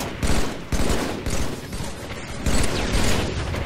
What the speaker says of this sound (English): I just shot you in the back there